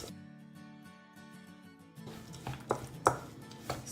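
Protein powder and water are stirred together in a bowl. A soft scraping and stirring is followed by sharper clinks and taps of a utensil against the bowl, all close and with no talk.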